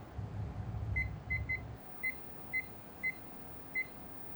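A timer being set gives a series of short, sharp electronic beeps, about seven, spaced roughly half a second apart and fairly loud against a quiet room after a brief low rumble.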